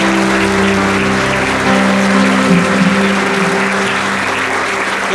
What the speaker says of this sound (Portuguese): Mais forte as palmas para nós